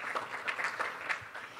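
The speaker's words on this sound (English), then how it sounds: "accept our round of applause" An audience at a tech conference's closing session applauds, a brief dense patter of many hands clapping steadily with no talk over it.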